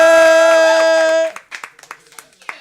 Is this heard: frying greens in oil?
no